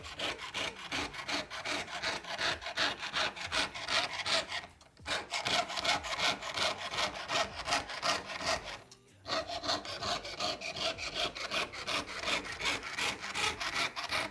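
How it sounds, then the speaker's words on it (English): A small metal disk held against a wooden bench pin is cut with a hand saw, giving fast, steady rasping strokes at close range, broken by two brief pauses. "You also need a bench pin or something like this to saw through to support your piece while you're sawing on it."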